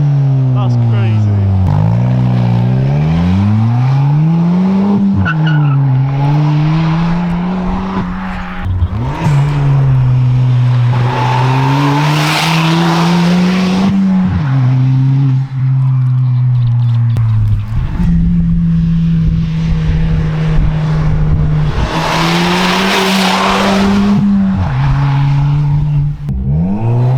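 A Ford Fiesta ST with a new exhaust revs up and down repeatedly, the engine note rising and falling loudly up close with occasional pops and crackles, while people talk over it.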